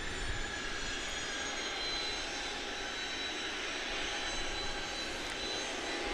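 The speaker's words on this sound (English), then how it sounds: "believe that's Cayman Airways flight number 2602 to Kingston," A Cayman Airways jet bound for Kingston, Jamaica, at Grand Cayman airport gives a steady, distant jet engine roar with a faint high whine, even and unbroken throughout, with no talk.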